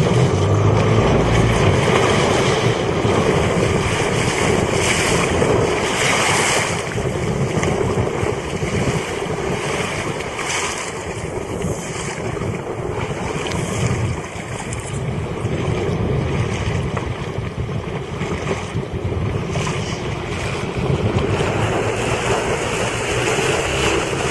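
Steady roar of wind buffeting the microphone over rushing water and waves while under sail on a sailboat, continuous and loud throughout with no speech.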